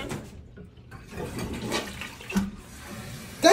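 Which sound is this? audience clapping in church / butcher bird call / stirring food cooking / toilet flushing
toilet flushing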